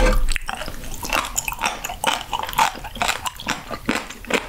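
Crunchy raw sturgeon spinal cord is chewed close up in a series of irregular crisp, wet bites and snaps, with no talk.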